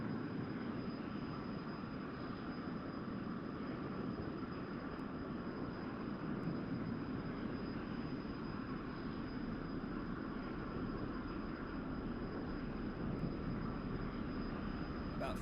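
An F-100D jet in the DCS flight simulator spools up for takeoff, a steady loud engine roar and rumble with a thin high whine on top, continuous and unvarying.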